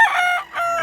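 A one-year-old Golden Monkey Sweater line gamecock in Mantalungon, Barili, giving a single close, loud crow that breaks briefly in the middle.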